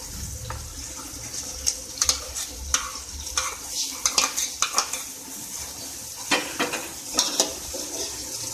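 Onion-yogurt paste for a fish and potato curry fries in a pan while a spoon stirs it, with repeated scraping and clinking strokes over a steady sizzle. The sound is close and clear, and nobody speaks.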